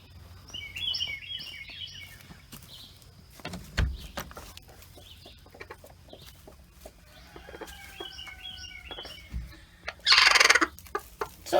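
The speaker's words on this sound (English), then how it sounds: "Let's do another check on those broody hens real quick." Broody hens cluck in short, scattered bursts, with softer murmuring calls between them and a sharper, louder squawk close by near the end; no one speaks.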